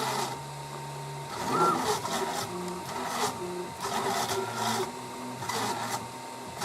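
A DIY CNC router fitted with a laser module hums and whirs as its motors step the head through an engraving test row at a slow feed, with a steady mechanical buzz and rhythmic stepping moves.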